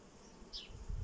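Bees buzzing around a beehive frame during hive work, a faint close insect drone passing by briefly over low handling rumble, no talking.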